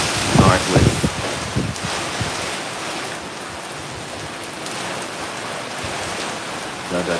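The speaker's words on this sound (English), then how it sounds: "the breeze and the rain is blowing this way" Hurricane Melissa's rain and wind lash Spanish Town, Jamaica, in a steady, close, noisy roar of downpour and gusts buffeting the microphone, with a few heavier low thumps early on.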